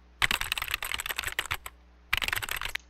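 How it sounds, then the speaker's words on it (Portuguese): Rapid keyboard typing from a free sound effects pack, a dense burst of clicking keystrokes for over a second, a short pause, then a second flurry of keys, close and clear with no voices. "Digitando."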